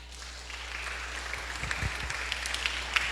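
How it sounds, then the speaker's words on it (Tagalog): Audience applause during a church sermon, a low scattered clapping texture that stays fairly faint and even for a few seconds, with a couple of sharper claps standing out near the end. "Palakpak."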